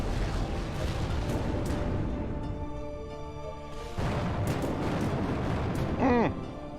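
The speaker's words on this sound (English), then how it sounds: "One of the enemy ships has been destroyed." An enemy spaceship blowing up in the space video game Between the Stars: a dense, rumbling explosion roar that fills the scene, swells again after a brief lull and ends with a short warbling tone.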